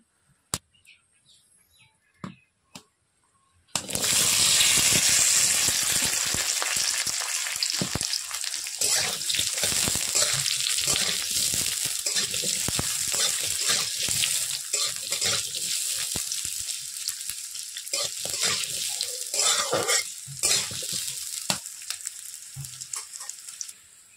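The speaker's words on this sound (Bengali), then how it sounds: "এই কুচানো আলুটি আমি তেলের মধ্যে দিয়ে দেব" Chopped potatoes, two medium ones, hit hot oil in a pan and set off a loud, steady sizzle that carries on with crackling and spatter after a brief quiet start.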